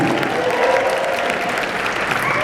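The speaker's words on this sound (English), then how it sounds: "Give her a round of applause." Audience at a 98 Degrees fan convention panel in Hartford, Connecticut applauds the moderator, a steady dense wash of clapping filling the room for the whole stretch, fairly loud and close.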